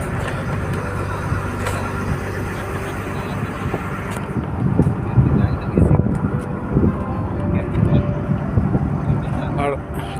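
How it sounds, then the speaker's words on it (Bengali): A river launch's engine drones steadily at the stern, a continuous low rumble with wind noise over it, close and fairly loud throughout. "এখানে একটা ইঞ্জিনের আওয়াজ হচ্ছে"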